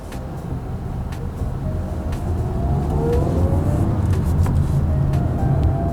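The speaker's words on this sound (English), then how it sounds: "The petrol engine in our test car settled down nicely once on the move" A Mazda 2 petrol engine in a test car, heard from inside while driving: a steady low hum and road rumble that rises gently midway and holds, with faint whirring overtones and no talk.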